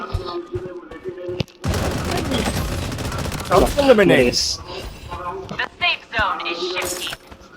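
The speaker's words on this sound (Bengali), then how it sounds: "এই যে একটা ফায়ার করছে" Rapid enemy gunfire in a mobile battleground shooter game rattles in loud, dense bursts and volleys for several seconds, with brief pauses between them and occasional voice underneath.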